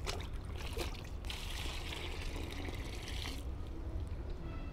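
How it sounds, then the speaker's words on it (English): Water poured from a mug into biogas feed waste, a steady rushing splash that runs continuously for several seconds, close up and without voices. "So we add 7 liters of water."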